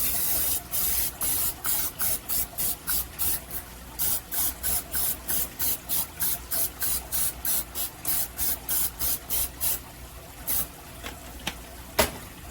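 Cooking spray hits a waffle iron in a long, rapid run of short, even hissing bursts, about two dozen in steady rhythm, close and clear, ending with a few scattered spurts.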